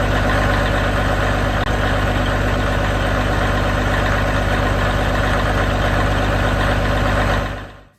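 A Caterpillar 1693 truck engine idles close by, a steady heavy rumble with rattling mechanical texture and strong low throb, unchanging throughout before fading out at the end.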